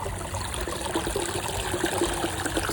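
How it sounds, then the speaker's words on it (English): Water flowing steadily from a boat's sea chest with the hose removed, a continuous close trickling and gurgling stream. "hose is off. Water flow still looks pretty good."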